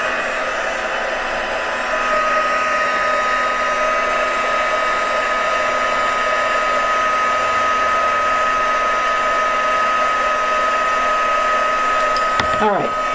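A craft heat gun blows hot air steadily onto a handmade greeting card, a loud continuous whooshing hum with no talk that holds for the whole stretch and cuts off abruptly near the end.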